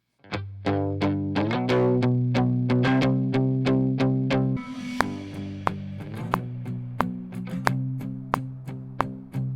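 Distorted electric guitar chords strum in a steady rhythm, thick with overdrive from a pedal, then switch to sharper single plucked notes that ring out with pedal reverb.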